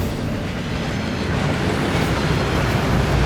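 A steady, roaring waterfall inside the Gringotts vaults in the Hogwarts Legacy video game, a loud continuous wash of rushing water with no break and no voices.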